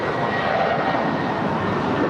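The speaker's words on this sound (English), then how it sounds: "471 off to Dallas Fort Worth, a 7-year-old Airbus A320" Spirit Airlines Airbus A320, seven years old, departing LAX for Dallas Fort Worth: a steady broadband jet engine roar, fairly loud and constant throughout with no voices.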